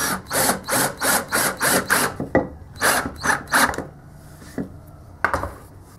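A power drill drives 1 1/4 inch screws into wooden folding-table parts, giving a string of short, loud rhythmic whirring pulses for about four seconds, followed by a few scattered quieter clicks.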